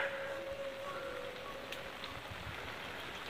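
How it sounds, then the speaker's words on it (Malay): Steady rain falls over a village, a dense, even hiss of drops hitting surfaces, continuous and moderately loud with a faint distant tone running through it and no voices. "hari hujan di kampung"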